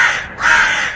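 A single loud, harsh caw from a crow, close by and alone, drawn out over about a second.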